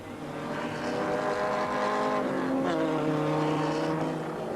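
Green Maserati race car, number 7, roaring past flat out in a rising, sustained engine howl that dominates from start to finish, loud and close with steady harmonic tones.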